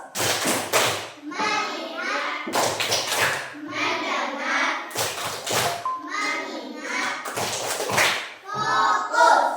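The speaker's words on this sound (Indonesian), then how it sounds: "Oke, tepuk fokus." Elementary schoolchildren in an Indonesian classroom perform a rhythmic focus clapping routine, with sharp bursts of group claps alternating with loud children's voices chanting along in a repeating pattern.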